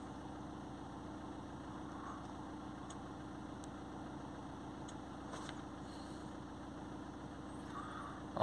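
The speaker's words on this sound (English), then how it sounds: "The engine is started." A Ford Transit Custom 2.2 diesel van idles steadily during a static particulate filter regeneration, giving a low, even engine hum with faint clicks and ticks. A brief bump comes at the very end.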